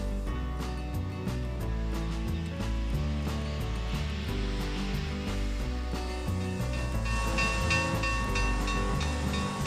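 A steam locomotive chugs and hisses steadily, with rhythmic mechanical clanking and a loud rush of steam building toward the end.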